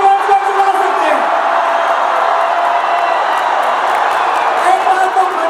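A large crowd at a film trailer launch event shouts and cheers in a continuous loud roar, dense and unbroken throughout.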